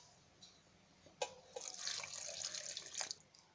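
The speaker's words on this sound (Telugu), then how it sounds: "ఇప్పుడు కొద్దిగా నీళ్ళు పోసుకోవాలి." Water pours steadily into a juicer jar holding cut guava pieces, a close splashing gush of about two seconds that follows a few faint clinks.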